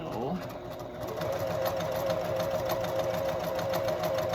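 A sewing machine chain-pieces half square triangle quilt units in a continuous run, its motor whirring steadily with a rapid mechanical stitching pulse, close and fairly loud.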